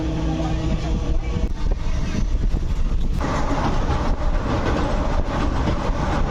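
Inside a moving passenger train, a loud, continuous rumble and rattle of the carriage fills the space, with rhythmic wheel clatter and steady low roar throughout.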